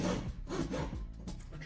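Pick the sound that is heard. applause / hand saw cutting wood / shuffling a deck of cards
hand saw cutting wood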